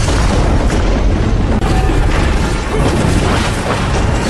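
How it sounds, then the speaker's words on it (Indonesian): Dense, continuous booming barrage from a Gatling gun in a film, with heavy low rumble, rapid gunfire blasts blending into one sustained roar, loud throughout. "Natalie menembakkan senapan Gatling ke arah tubuh Diablos. Dentuman demi dentuman hanya memantul di kulit tebal"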